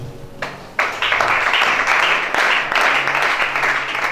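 A church congregation breaks into applause, a dense wash of clapping hands that swells suddenly and holds steady and loud, with faint voices underneath.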